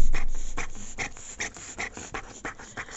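A dog that has been injured, with a docked tail and cropped ears, makes a close, repeated series of short panting whimpers and snuffling breaths, alone and without any talk.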